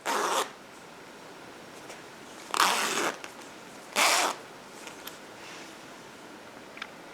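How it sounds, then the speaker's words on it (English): A zipper is run along a crocheted yarn dog bone purse in three quick, separate zips, each a short, bright rasp with quiet pauses between, close up and without speech. "test your zipper"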